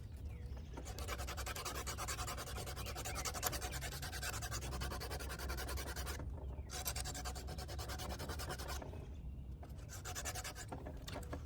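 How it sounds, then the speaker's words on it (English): A belt sander works over a wooden sculpture, a continuous quiet abrasive rasping hum with a few brief breaks where the belt lifts off the surface. "belt sander"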